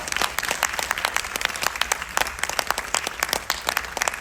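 A theatre audience at a national theatre festival in Bhopal applauds the cast of the play Shivoham with loud, sustained clapping from many hands, dense and close, with sharp individual claps standing out.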